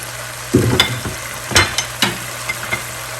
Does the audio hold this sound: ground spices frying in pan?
yes